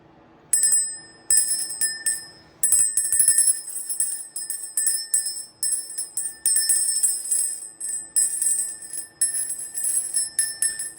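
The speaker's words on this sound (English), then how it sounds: "I'm going to ring the little bell to kind of just clear the energy around the reading" A small bell is rung again and again, bright high ringing tones sounding close and alone, each strike fading before the next in an uneven rhythm.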